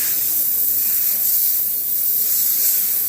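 Steam cleaner blasting a continuous bright hiss while jewelry is cleaned at a repair bench, steady and close for the whole stretch, with no talk over it.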